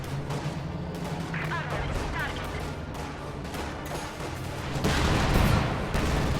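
Katyusha rocket artillery in a video game firing, a dense rumble of repeated blasts and crackling bursts that swells louder near the end, with a voice talking over it.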